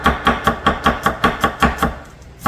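A knife slices green onion on a cutting board for a Chinese dish, with about nine crisp, evenly spaced chops close up, then a short pause at the end.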